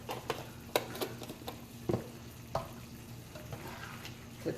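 Chicken fricassee in a cream sauce with mushrooms bubbles gently in a pan, soft sizzling with scattered pops and light stirring clicks at a low, quiet level, no voices.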